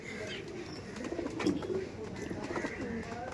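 Giribaz pigeons in a loft cooing, soft low burbling calls repeating through the moment with faint bird chatter and background murmur, moderately close.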